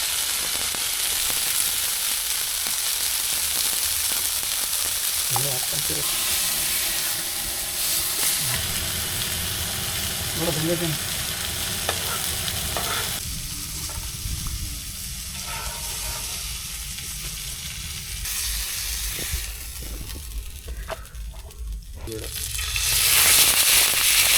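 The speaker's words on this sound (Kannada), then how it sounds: "ಖಾರದ ಪುಡಿ ಹಾಕಿ ಫಿಶ್ ಫ್ರೈ ಮಾಡಿರೋದು" Village-style fish frying in oil with chili powder sprinkled over it, a loud, dense sizzle and spatter that runs steadily throughout, with occasional scraping and handling noises and a brief muffled voice in the background.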